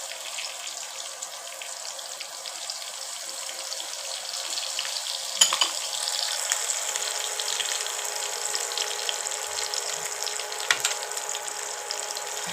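Chopped chili sizzling in a pan for potol chicken pulao, a steady, bright hiss and crackle that keeps going the whole time with a couple of small pops and no talking.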